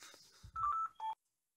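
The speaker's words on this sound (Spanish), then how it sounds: "Está el teléfono y que no para." A telephone in a guitar luthier's workshop gives off a few short electronic tones in quick succession, loud and close, then stops into silence.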